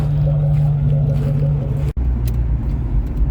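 A 2003 Ford Mustang Mach 1 engine drones loudly and steadily from inside the moving car, with a deep low rumble and one sharp momentary dropout midway.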